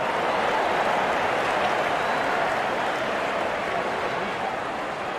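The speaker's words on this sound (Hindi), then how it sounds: "दर्शक इस 50 रन को अपने तालियों से सराहते हुए" Crowd applause in the Real Cricket 24 video game after a batsman reaches fifty, a dense, steady roar of clapping that holds evenly throughout without a break.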